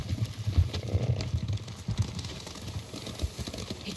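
Horses galloping in Ghost of Tsushima, a rhythm of muffled hoofbeats that rises and falls at moderate distance with faint ambient rustle, no talking.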